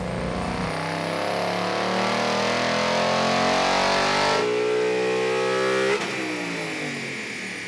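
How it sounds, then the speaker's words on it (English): A 2018 Ford Mustang GT Performance Pack on E85 with a tune revs hard on a dyno, climbing steadily in pitch for several seconds, loud and close, then dropping off abruptly and winding down. "we're about ready to run the car now and see what kind of power we get"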